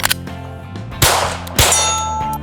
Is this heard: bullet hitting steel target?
yes